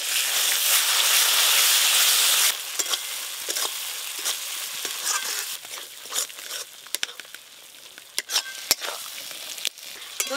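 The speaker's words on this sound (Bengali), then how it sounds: "এবার দেব ফেটিয়ে রাখা টক দই।" Whisked sour yogurt hits hot frying masala in a pan with a loud sizzle that then settles into quieter crackling, broken by scraping stirring strokes.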